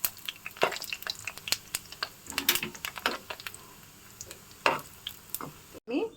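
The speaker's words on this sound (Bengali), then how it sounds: "এখন এগুলোকে আমি হালকা ডুবো তেলে ভেজে নেব" Bread-dough kalojam sweet balls deep fry in oil, giving soft crackling pops and light clicks scattered irregularly over a faint bubbling hiss, close and quiet.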